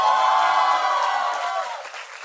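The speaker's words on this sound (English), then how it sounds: "can we have a cheer for the Dean once?" A graduation ceremony audience bursts into cheering and applause for the Dean, a broad, dense crowd roar with clapping that holds steady, then slowly tapers off over a couple of seconds.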